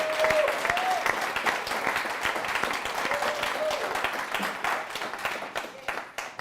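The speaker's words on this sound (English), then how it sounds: "can y'all please give a round of applause for Vicky and Misha" Sustained audience applause at a finance and diversity speaking event, many hands clapping in a dense, steady patter that carries on for several seconds, with a few cheering voices rising within the crowd.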